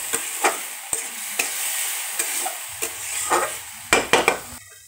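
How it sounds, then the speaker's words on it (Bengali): Light stirring of a nearly cooked stir-fry in a pan, giving soft scraping strokes with occasional clinks of utensil on metal over a low sizzle, close by and with no talking. "এবার একটু হালকাভাবে নেড়ে ঢেকে দিব।"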